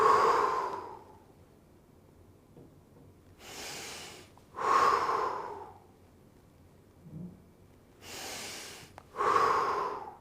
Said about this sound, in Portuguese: Eu vou me simular aqui agora, uma respiração normal, em torno de 12 a 20